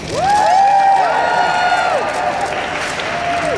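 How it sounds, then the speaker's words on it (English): A crowd at Lady Gaga's artRave press conference in Brooklyn cheers loudly, with shouts and whoops over steady applause. The noise stays dense and close throughout, then eases slightly toward the end. "You can cheer."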